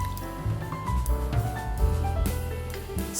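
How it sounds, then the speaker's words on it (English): Sherry and chicken broth poured into a skillet with sautéed garlic mushrooms, soft close liquid splashing and squishy sizzling over a few seconds, fairly quiet. "Pour in sherry"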